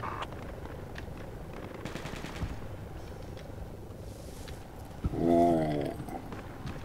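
Machine gun fire in a military combat video game, short bursts rattling at moderate distance beneath steady game ambience, with a louder burst near the end.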